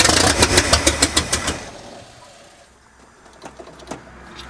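The engine of a 1965 Ford F250 runs roughly, starting with a loud, uneven chugging rhythm that fades within about two seconds. Faint irregular knocks and a quiet rumble follow.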